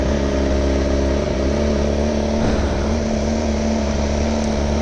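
A sport motorcycle on its stock exhaust runs indoors in a basement, giving a loud, steady engine drone with strong low harmonics that holds at a high idle for the whole stretch, with no voices.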